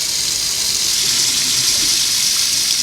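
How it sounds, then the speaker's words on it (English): Tap water runs steadily into a kitchen sink fitted with a Waste King L-1001 1/2 HP garbage disposal, a constant close hiss and gush that fills the whole stretch without pause or talk. "We got water going"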